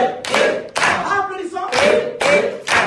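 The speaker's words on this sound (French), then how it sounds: "Applaudissons." Audience applause at a Palm Sunday church gathering in Paris: loud, close bursts of clapping in an uneven rhythm, with brief gaps between surges and voices mixed in.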